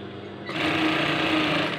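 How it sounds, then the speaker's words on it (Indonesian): A sewing machine stitches along the basting line at a garment's neckline, starting after a brief lead-in and running as a steady, close mechanical whir for over a second before slowing. "Kita jahit ngikutin jelujur tadi ya."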